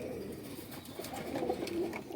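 Teddy pigeons coo softly and repeatedly, close by, over a faint background murmur.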